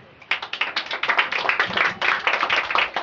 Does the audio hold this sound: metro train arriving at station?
no